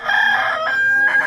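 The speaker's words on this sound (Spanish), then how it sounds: "el gallo, al que el ruido había espabilado, gritó desde su viga" A rooster crows loudly and close as a story sound effect, one long drawn-out cock-a-doodle-doo call standing alone.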